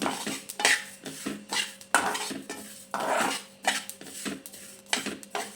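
Sesame seeds dry-roasting in a pan on low heat, stirred constantly so that a spoon repeatedly scrapes and clinks against the metal, with a faint dry rustle between strokes.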